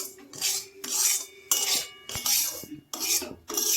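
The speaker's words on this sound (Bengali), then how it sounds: "দেখতে থাকুন আমি কিভাবে এটা ভেজে নিচ্ছি।" Semolina stirred and fried in ghee in a pan, a spoon scraping the pan in repeated rhythmic strokes with bright rasping, close and fairly loud, no talk.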